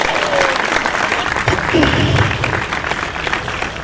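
An audience at a mushaira poetry gathering applauds a young poet, a full burst of crowd clapping close and loud, with a voice speaking over it partway through.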